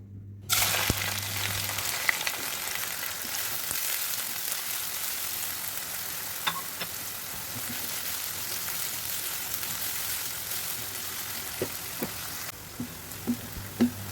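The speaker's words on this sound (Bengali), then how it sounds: "তেলটা গরম হলে এর মধ্যে আমি বেশি করে কিছু পেঁয়াজ কুচি বাদামি কালার করে ভাজি করে নিলাম" Chopped onions frying in hot oil in a pan, browning, with a steady hissing sizzle throughout and a few faint clicks and pops near the end, no talking.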